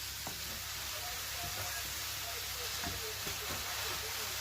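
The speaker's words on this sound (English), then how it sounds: "The first job we're going to do is get these burgers in the griddle." Beef burgers sizzling on a hot griddle, a constant soft hiss of frying with faint occasional pops and clinks, quiet and steady.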